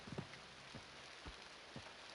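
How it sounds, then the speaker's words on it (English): Rain falls in the fantasy game EverQuest, a faint, steady hiss of rainfall with a few soft, low thumps spaced about half a second apart. "it's raining"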